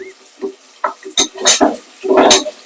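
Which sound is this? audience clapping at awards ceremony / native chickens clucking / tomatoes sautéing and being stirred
tomatoes sautéing and being stirred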